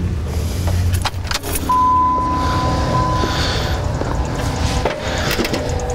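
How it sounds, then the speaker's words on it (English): An electric fuel lift pump primes a 2003-2007 Dodge Cummins 5.9 common-rail truck with the key on, giving a thin steady whine for a couple of seconds amid nearby clunks and jangling keys. "Let the fuel pump run a good cycle."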